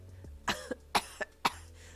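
Three sharp coughs, close and fairly loud, spaced about half a second apart, each followed by a smaller catch of breath.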